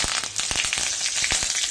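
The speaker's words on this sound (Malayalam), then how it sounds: "കടുക് പൊട്ടി തുടങ്ങിയിട്ടുണ്ട് അതിലേക്ക് കറിവേപ്പില ഇട്ട് കൊടുക്കാം" Mustard seeds crackle and pop sharply in hot oil as curry leaves sizzle, a close, dense fry dotted with several distinct snaps.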